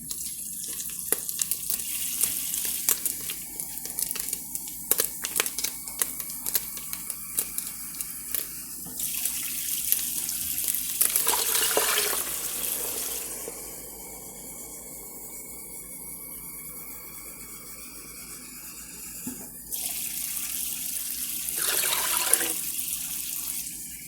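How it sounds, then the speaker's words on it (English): Six cups of water poured into a cooking pot, a loud gushing tap-like stream that starts and stops in several bursts, splashing close by, with no talking. "I am going to add 6 cups of water to this."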